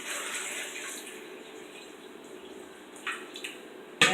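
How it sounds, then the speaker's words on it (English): Water poured from a tap or jug into a blender holding washed, stripped tomatoes for tomato juice, a steady close splashing stream with a brief louder burst near the end, no talking. "I'm gonna add some water."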